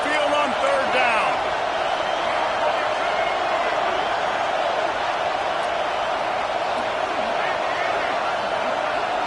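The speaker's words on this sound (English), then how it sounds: "The Tide crowd rolling noise down onto Saban Field on 3rd down." At Saban Field during an Alabama versus Ole Miss football game, a huge stadium crowd roars on third down, a dense, steady wall of cheering and yelling that holds without a break, with a few whistles poking through.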